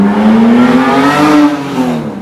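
A Ferrari 812 GTS with a naturally aspirated 800 hp V12 revs hard on a São Paulo street, a loud, close, rising engine howl that holds, then eases off at the end.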